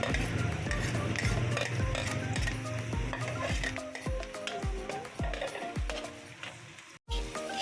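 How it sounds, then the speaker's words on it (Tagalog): Pork pancit bihon cooking in a pan: a spatula or spoon clinks and scrapes repeatedly against the metal as garlic is stirred in, with a low sizzle underneath and a short break near the end. "Isusunod naman natin ang ating bawang."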